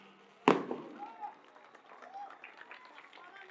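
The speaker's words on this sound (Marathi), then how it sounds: "हे प्रदूषण करणारे फटाके बंद करा" Firecrackers set off at a BJP party office inauguration in Pune give one sharp, loud bang, followed by scattered crackling and crowd noise with voices talking in the background.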